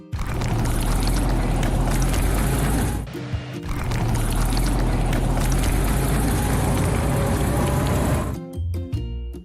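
Water sprays in a steady, loud hiss as an earth mover is washed in a cartoon vehicle-garage game, pausing briefly near the three-second mark and cutting off near the end, where a few light clicks follow.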